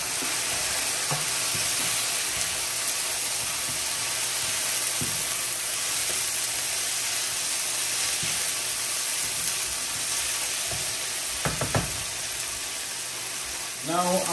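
Carrots and onion sizzle steadily in a hot pan for beef lo mein, a continuous loud frying hiss with occasional utensil scrapes and stirring clatter near the end.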